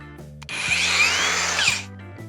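A Procraft AG125A cordless angle grinder spins up loudly at close range with a steady high whine, then stops abruptly as the kickback control acts. Background music plays under the sound.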